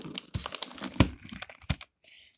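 Christmas wrapping paper crinkling and tearing as presents are unwrapped, a run of close, uneven rustles and rips that stops abruptly near the end.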